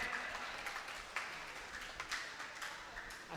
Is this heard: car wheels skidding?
no